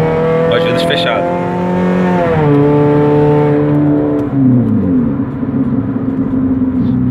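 An automatic Chevrolet Cruze with a loud exhaust and diffuser revs up and drops back, its engine tone climbing and falling in a throaty roar recorded up close, with windows closed and talk alongside.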